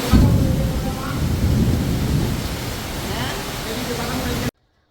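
Heavy rain pours steadily in a dense, loud roar, with low rumbling suggesting thunder beneath it, running continuously before cutting off abruptly near the end.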